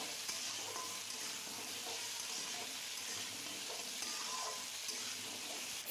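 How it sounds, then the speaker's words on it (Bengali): Potatoes and taro rubbed with turmeric sizzle steadily in a hot pan as a utensil stirs them, a close, continuous frying hiss with faint scraping, ending in a brief knock. "আলু আর গুঁড়ি কচু একটু হলুদ দিয়ে মাখিয়ে রাখা হয়েছিল, তো সেগুলোও দিয়ে দেওয়া হলো। দিয়ে সব কিছু নেড়ে চেড়ে নেওয়া হচ্ছে।"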